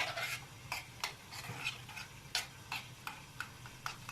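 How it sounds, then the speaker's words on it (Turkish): Spoon stirring a labne dessert mixture in a bowl, giving a series of quiet, regular scraping clicks at close range, with no talking. "Şimdi bunları böyle bir karıştıralım bakalım"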